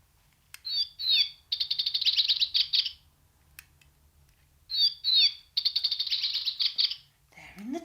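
Little baby bird chirping in a tree: two bursts of bright, rapid high tweets and trills, each lasting about two seconds with a pause between, fairly close and clear over quiet background.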